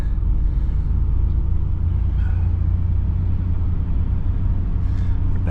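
A camper van drives down a road in cold spring weather, its low engine rumble and road noise droning steadily and closely throughout with no break.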